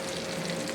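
Oil and butter sizzle in a kadai, a steady dense crackling hiss that holds without pause across the short moment.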